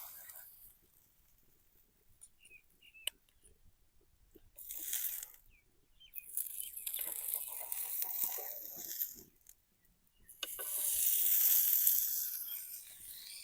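A stuffed mooli (radish) paratha fries on a pan, with quiet hissing sizzle that comes in separate bursts. The bursts grow longer and stronger toward the end.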